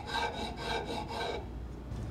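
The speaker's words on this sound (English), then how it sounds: "With this file, I make the neck nice and smooth." A hand file rasps along a wooden violin neck in a violin maker's workshop, several steady back-and-forth strokes close to the microphone, then quieter scraping at the end.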